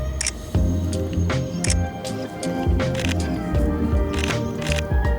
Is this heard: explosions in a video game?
no